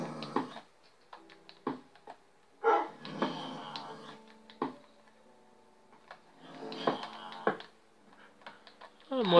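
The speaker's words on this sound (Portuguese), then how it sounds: "esse cachorro aqui não sai da minha cola" A pet wolf-dog in Minecraft makes short, scattered barks and whimpers as it follows the player. Soft clicks and game noises fill the gaps at moderate volume.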